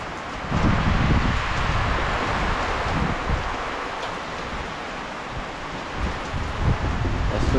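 Strong wind gusts during a heavy nighttime rainstorm, buffeting and rumbling in low surges that rise and fall over a steady wash of rain, loud and close.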